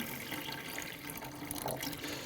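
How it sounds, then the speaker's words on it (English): Water poured into the bottom of a Royal Catering RCHW-1000 hot dog warmer, a steady close splashing and running fill lasting a couple of seconds with no talk. "So you put some water on the bottom."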